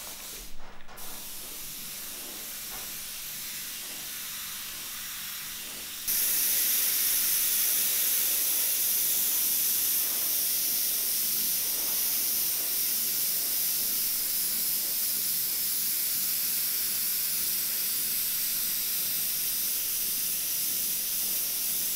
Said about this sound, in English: Now I will spray the red color